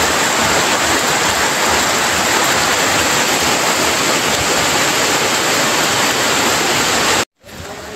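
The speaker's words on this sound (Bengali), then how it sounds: "দেখো গাইস কতটা বৃষ্টি হয়ে গেল।" Heavy rain pours down steadily in a loud, dense broadband roar on a road, continuous and close for most of the stretch before cutting off abruptly near the end.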